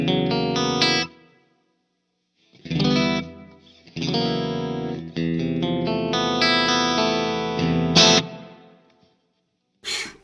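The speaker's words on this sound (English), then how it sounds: "This is the new Big Sky, the MX." Electric guitar played through a Strymon Big Sky MX reverb pedal, heard as ringing chords and notes in several bursts with long reverberant tails between pauses, loud and close with no talking.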